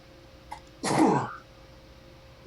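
One sharp sneeze up close, a brief loud burst standing out in an otherwise quiet room with faint background hum.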